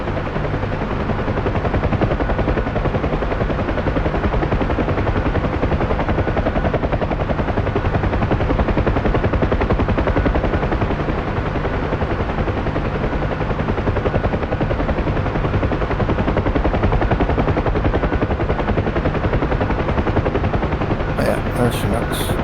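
A UH-1H Huey helicopter in DCS flies with a loud, unbroken rotor and turbine drone that fills the whole stretch at steady volume, with a few brief clicks at the very end.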